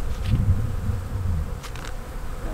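Honeybees buzzing in a dense, steady drone around a hive at an apiary after a swarm moves in, close to the listener and with no talking.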